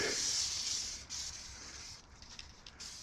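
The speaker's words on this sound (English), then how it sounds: "Spray it on." A steady hiss of Holt silicone aerosol spray on a bicycle sprays for about a second, then continues in shorter bursts, close by and fairly quiet.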